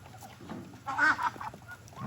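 Several ducks waiting to be fed quack and honk nearby in a short, noisy burst of overlapping calls.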